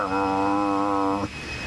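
A person's voice imitates a loudly purring cat, making a steady buzzing drone like a small 2-cycle engine for just over a second before cutting off abruptly.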